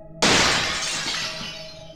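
A classroom glass window shatters with a sudden sharp crash, followed by a bright spray of breaking shards that rings out and slowly fades over two seconds, loud and close with no voices.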